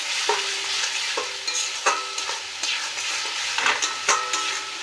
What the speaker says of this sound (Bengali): গরম মশলা একটু কষার মতো দিলে গন্ধটা ভালো বেরোয় ভালো করে নাড়িয়ে নিতে হবে